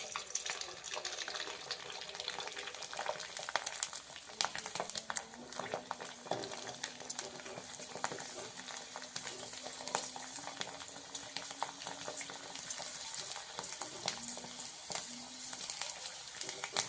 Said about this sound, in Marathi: आपण पिवळ्या कलरची पण तळून घेऊया.